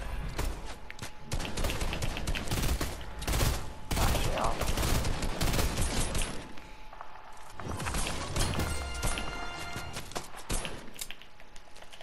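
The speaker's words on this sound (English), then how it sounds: "Oh, there's some more shooting." Dense, continuous gunfire and rapid shots crackle through a Fortnite match, with bursts of fire and thuds layered over one another and only a brief lull partway through.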